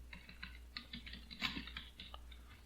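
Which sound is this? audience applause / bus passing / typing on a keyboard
typing on a keyboard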